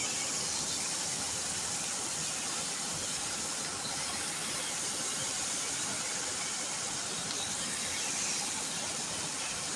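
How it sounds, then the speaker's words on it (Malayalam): Mustard seeds and masala spices sautéing in coconut oil in a pan give a steady, dense sizzle and hiss that holds evenly from start to finish, with no talk over it. "അതിനുശേഷം നമുക്കൊരു പാൻ വെച്ച് അതിലേക്ക് ആവശ്യത്തിന് വെളിച്ചെണ്ണ ഒഴിച്ച് കടുകും നമ്മളെല്ലാ മസാലകളും ഇട്ട് നമുക്കൊന്ന് വഴറ്റിയെടുക്കാം"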